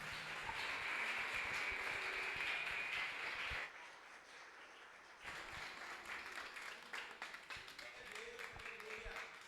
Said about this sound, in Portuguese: aplaude o Senhor Jesus bem forte